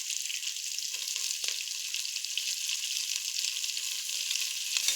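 Onions and curry leaves sizzle steadily in hot oil for a duck stew, a continuous bright frying hiss with a few faint stirring clicks and no talk.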